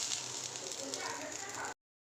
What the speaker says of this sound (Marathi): चला तर खोबरं पण भाजून घेते।